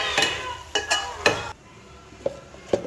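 Squid sizzling and shrinking in a hot pan while being stirred, with a few sharp metallic scrapes and clinks of a utensil against the pan over a steady frying hiss.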